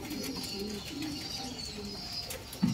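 Karna pigeons coo in a shop, low throaty calls repeating in a steady rhythm beneath a constant high background hiss, with a brief louder thump near the end.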